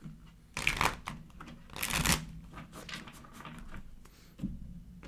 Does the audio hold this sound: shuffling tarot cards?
yes